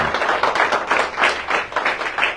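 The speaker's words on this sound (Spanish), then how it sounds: "Den un fuerte aplauso al Rey de la Gloria." A church congregation claps for the King of Glory in steady, rhythmic bursts, a full and fairly loud sound from a crowd of many hands.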